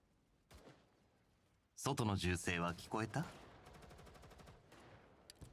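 Rapid automatic gunfire from enemies in the video game GFL2 Exilium, a quick steady rattle of shots at moderate distance that follows a loud burst of voice.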